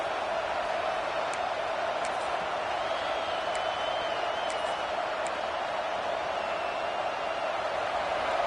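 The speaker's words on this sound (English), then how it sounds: "Listen to the crowd energy here in the early going." A stadium crowd at a Penn State college football video game gives a constant distant roar with faint cheering swells, a dense wash of noise that stays even and moderately quiet throughout.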